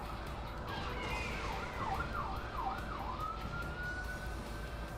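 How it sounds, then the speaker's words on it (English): Wailing emergency sirens sweep up and down in a PS2 video game, rising out of a low background rumble and steadying into a long held tone, with no talking over them. "And then there were sirens."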